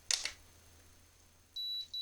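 A home blood pressure monitor after its power button is pressed: a soft click, a quiet pause, then two sustained electronic beeps close by.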